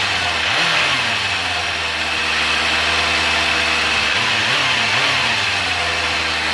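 Four-cylinder engine of a 1988 Yamaha FZR400RR idling steadily, a close, even hum with a couple of small blips in revs.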